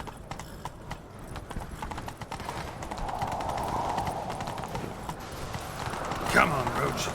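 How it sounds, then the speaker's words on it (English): Horse hooves clip-clop at a gallop in the video game The Witcher 3, a steady rhythmic pounding under voices and game ambience, closing with a brief whinny. "Grab a horse, we'll chase him down."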